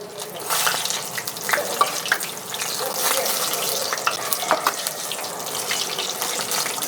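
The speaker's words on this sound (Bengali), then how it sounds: "এবার সুন্দর করে ভেজে তুলে নিন" Water lily flower cutlets fry in hot oil, a steady hiss and crackle with scattered pops running continuously and fairly close, no talking over it.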